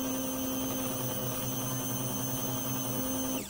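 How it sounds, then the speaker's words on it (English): Stick blender grinding rose petals into oat milk and rose soap batter, a steady motor whine with a constant hum and drone that cuts off abruptly near the end, heard alone. "Now I'm going to stick blend this to grind up all of those rose petals"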